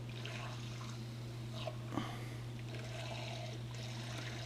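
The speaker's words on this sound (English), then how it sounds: "Just keeping the coolant stirred all the time." Pump stirring coolant in a HAAS machine coolant tank, a steady low hum under continuous watery swishing and trickling with a couple of faint knocks, heard close and without speech.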